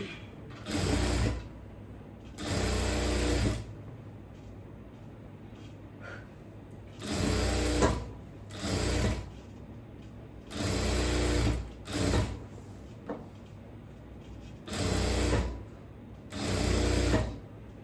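A sewing machine attaches a sleeve to a churidhar in several loud, close bursts of rapid stitching, about seven runs of one to two seconds each, separated by short pauses with no talk.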